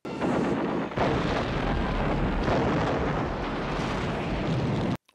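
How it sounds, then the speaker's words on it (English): A sustained, roaring explosion from the 1986 film Iron Eagle, a jet attack on an airfield runway amid ground fire: loud, broadband rumble that swells at once and holds for about five seconds before cutting off abruptly, with no speech. "That was a good explosion for me."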